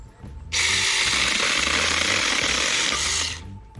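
A Saker mini chainsaw cuts through a supported 2x3 piece of wood, a loud, steady buzzing whine lasting about three seconds before stopping, with no talking.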